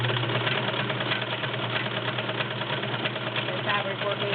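A Brother model 2010 sewing machine runs a stretch stitch in a steady, continuous mechanical whir with rapid needle rhythm, close and fairly loud, with no talking over it.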